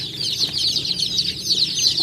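Young free-range village chicks peep and cluck continuously under a 40-watt heat lamp, a steady high chirping chorus close by with a low hum underneath and no talking.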